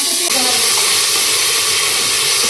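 Spices, whole garlic and garlic paste sizzle in hot oil for a picnic pulao and chicken kosha, a steady close hiss and crackle that runs unbroken throughout.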